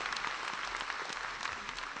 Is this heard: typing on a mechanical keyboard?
no